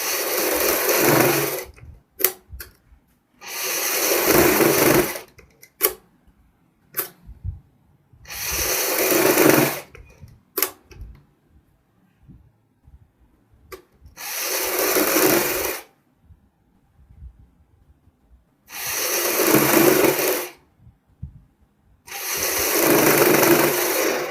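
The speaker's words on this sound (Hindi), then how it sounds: "चारों साइड हम इसी तरीके से सिलाई लगाएंगे।" A sewing machine runs in repeated bursts of several seconds each, stitching the lining and embroidered pieces of an old suit being remade, with short quiet gaps and small handling clicks between runs.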